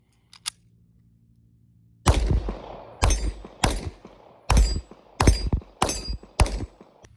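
A final magazine of .40 Smith & Wesson rounds fired from a pistol: seven sharp, loud shots at an uneven pace with short echoing tails, after a faint click or two and a brief silence.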